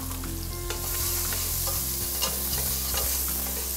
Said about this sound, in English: In the same pot, we're gonna add in some aromatics. Just some garlic, onions, celery,